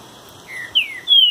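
A trinca-ferro songbird sings in a duel with a rival, sending out short clear whistled phrases that rise and fall, each louder than the last, with no other sound nearby.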